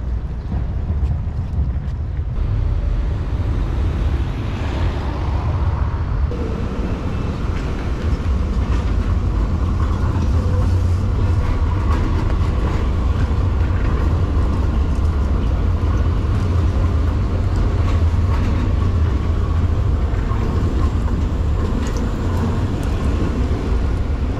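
Trains rumble at a railway station, a heavy low drone that stays loud and continuous throughout, with rolling rail noise and a brief shift in tone early on.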